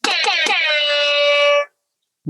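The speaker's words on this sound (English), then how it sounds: "it is an air horn, but it's the hype button." A loud air horn blares as a podcast hype button, opening with a few quick stuttered blasts before settling into one sustained honk that cuts off abruptly.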